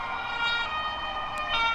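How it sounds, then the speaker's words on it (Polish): A police siren wails steadily and loudly as the car heads toward the stadium area before a Widzew versus Legia football match, a continuous tone with no other sounds over it. "policja jedzie w okolice stadionu"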